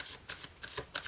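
Tarot cards from a Celtic Tarot deck being shuffled by hand, several quick riffling bursts of papery flutter in a short run, close and fairly quiet with no talking.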